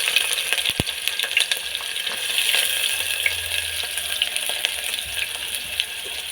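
Chopped onions fry in mustard oil for ghugni, producing a loud, continuous crackling sizzle with a sharp metallic clink near the start and scattered spatters throughout, with no one speaking.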